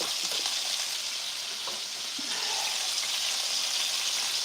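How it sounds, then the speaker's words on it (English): Food simmers in a pan with balsamic vinegar added, giving a steady, close sizzle and bubbling hiss that runs evenly throughout with no talking. "And just let them simmer a little while longer."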